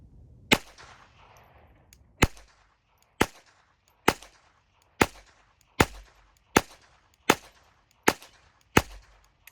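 A pistol fired with Remington Gold ammunition, ten sharp loud shots spaced roughly a second apart with slight irregularity, each cracking out and decaying quickly into quiet outdoor air.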